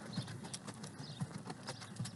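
Horses walking in a riding arena, hooves clip-clopping at an even, unhurried pace with faint distance, a few soft footfalls spaced across the moment.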